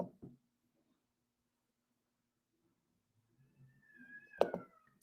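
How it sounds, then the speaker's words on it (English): Cats fighting outdoors, heard as a faint, distant scuffle after a long near-silence, then a brief rising yowl with a sharp burst near the end. "Uh-oh, the cats are fighting."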